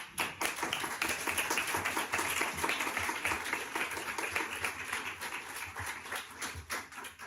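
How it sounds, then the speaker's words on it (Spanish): Audience at a talk on whether artificial intelligence can design a house breaks into applause, a steady crackle of many hands clapping close by that fades slightly toward the end, no speech over it. "aplauso."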